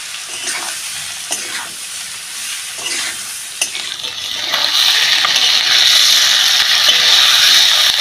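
Potatoes are stir-fried with salt and turmeric in oil: intermittent scraping stirs give way to a loud, steady sizzle that swells and holds close by, with no talk.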